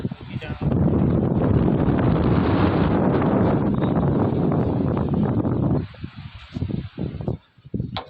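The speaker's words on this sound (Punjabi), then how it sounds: "ਹਵਾ ਬਹੁਤ ਚੱਲ ਰਹੀ ਹੈ ਅੱਜ" Strong wind buffets the microphone outdoors at a borewell site in Bhundri village, Ludhiana district. A loud, steady roar lasts about five seconds, then breaks into quieter, uneven gusts.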